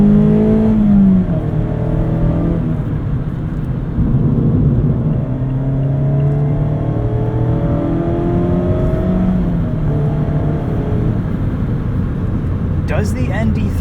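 The engine of a 2024 Mazda MX-5 Miata RF ND3 drones steadily from inside the cabin while driving, its pitch rising and falling through gear changes, loud and continuous, with a person talking over it.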